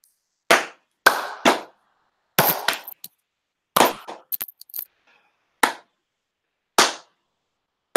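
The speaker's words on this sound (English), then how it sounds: "we need a slow clap for Starfire" A single person's slow clap: sharp, isolated handclaps spaced out irregularly about once a second, close and crisp against silence, with a brief cluster of smaller knocks in the middle.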